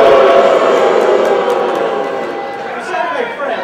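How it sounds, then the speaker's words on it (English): A crowd at CPAC greets Donald Rumsfeld with sustained applause and cheering, a dense, loud wash of clapping and voices that holds steady and swells slightly near the end. "I want everybody to give a big round of applause for our friend"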